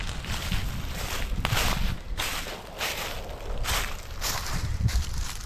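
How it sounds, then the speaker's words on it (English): Continuous wind buffets the mic while leaves crunch underfoot in irregular steps, a rustling, crackling texture outdoors with no talking. "I apologize for the wind and the crunchy leaf noise"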